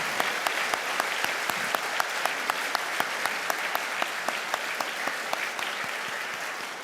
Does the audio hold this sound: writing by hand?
no